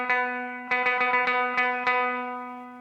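A guitar repeats a phrase of a riff: one struck note, then a brisk cluster of picked notes in uneven rhythm, all ringing into a long close sustain with light effects.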